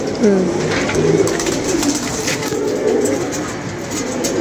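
Soft pigeon coos repeat under a steady background hum, with faint voices nearby.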